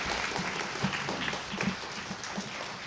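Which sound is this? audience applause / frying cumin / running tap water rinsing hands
audience applause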